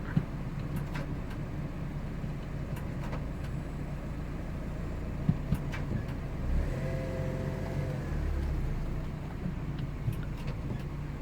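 A Fiat Punto Dualogic with a harsh, grinding gearbox fault creeping forward as the gears engage: a low, quiet engine rumble with a brief swell of revs partway through and faint clicks, no talk.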